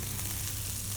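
Onion sizzles steadily in hot lamb fat in a pan for a Somali dinner, a dense, close, continuous crackle with no pauses.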